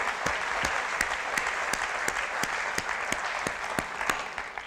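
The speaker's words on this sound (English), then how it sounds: "I think she deserves a round of applause." Audience at a photojournalist's lecture applauding, a steady sustained patter of many hands with a few louder sharp claps standing out, moderately distant and with no talk over it.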